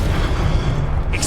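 A Confringo blasting spell goes off in Hogwarts Legacy, heard as a dense, loud rumbling explosion with heavy low-end boom sustained throughout, a small bright pop near the end.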